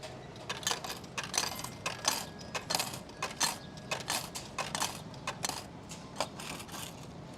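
Rapid clinks and jingles of coins clattering into a vending machine's metal tray in Japan, a quick run of bright metallic hits with short pauses, close and fairly quiet.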